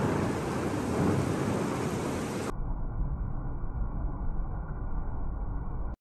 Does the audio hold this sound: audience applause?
no